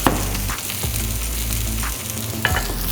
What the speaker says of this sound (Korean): 한 면당 4분 정도를 구울 거예요